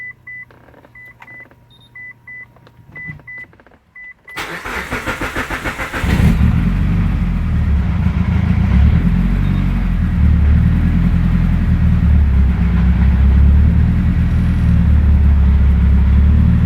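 A fully built Mitsubishi Evo 8 cranks with a few beeps, fires up loudly around four seconds, then settles into a heavy, steady rumbling idle that fills the rest of the clip, close by with no talking.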